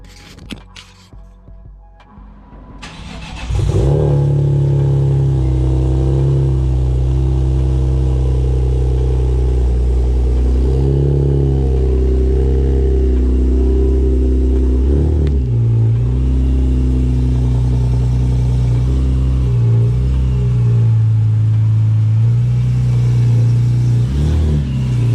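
A supercharged BMW Z4M engine cranks and catches after a quiet few seconds, then idles loudly nearby with several blips of revving that rise and fall in pitch.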